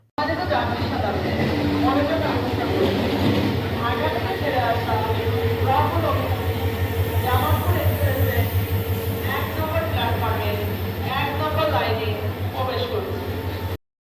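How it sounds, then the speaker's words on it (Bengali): Steady low rumble of a passenger train rolling into an airport station, with continuous mechanical hum and people talking over it throughout. "এই মুহূর্তে আমাদের ট্রেন প্রবেশ করছে তার প্রথম যাত্রাবিরতি স্টেশন বিমানবন্দর"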